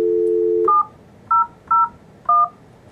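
Dual-tone keypad beeps on a Polycom IP conference phone, four short evenly spaced tones after a steady dial tone cuts off, clear and close with no talking.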